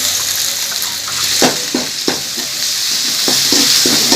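Ginger garlic paste frying in a pan for a crab gravy, giving a steady loud sizzle with repeated spatula scrapes and stirring knocks, no voices.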